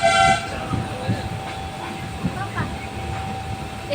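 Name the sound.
inside a moving train carriage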